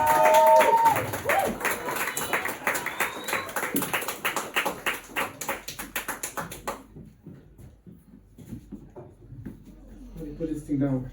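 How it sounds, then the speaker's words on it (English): A comedy club audience greets a comedian with a loud burst of clapping and applause, dense at first and then thinning into scattered claps that fade toward quiet before a brief swell at the end. "Please give a big round of applause as he comes down to the stage"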